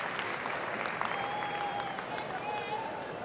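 A sellout crowd at a dog show fills the space with steady, dense applause and murmur, a continuous wash of clapping heard from within the audience, with an announcer's voice faintly running over it.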